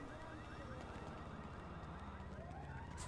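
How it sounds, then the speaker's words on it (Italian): A video game ambulance siren wails with rising, repeating tones over a steady engine rumble, fairly quiet and continuous, with no talk. "cos'è sto rumore di ambulanza che sento da un'ora?"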